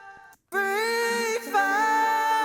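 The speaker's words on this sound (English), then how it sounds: "And then just the bass note of the chord." A synthesized bass note from a chord in an electronic music production holds as a sustained, rich harmonic tone after a brief silence, shifting slightly partway through.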